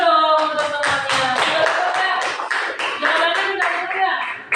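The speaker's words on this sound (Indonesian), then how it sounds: "Tepuk tangan dulu dong teman-temannya." Grade-four schoolchildren in a classroom clap their hands together, a loud, fast, rhythmic patter of many hands that continues steadily for several seconds.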